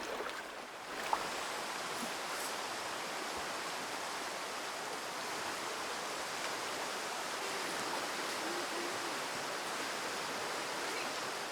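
A jungle river flows with a steady, even rushing wash of water that continues unbroken throughout at a moderate distance.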